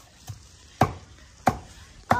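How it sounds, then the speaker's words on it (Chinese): Vegetables being stir-fried in a home kitchen wok, with a faint sizzle and three or four clear, close clanks of the spatula against the metal at a steady pace. "现在正在炒菜。"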